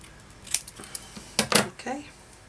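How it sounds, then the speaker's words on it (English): Scissors cut through craft material in a few short snips and crisp rustles, close and fairly loud, with a voice speaking briefly among them. "I might just cut that one a little bit off and just make it a bit thinner."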